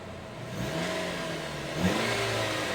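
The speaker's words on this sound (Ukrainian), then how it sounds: "двигун працює стабільно." A Jeep Patriot 2.4 engine runs at a steady idle-like hum after throttle body replacement, with a slight rise in pitch partway through, close by, no talking.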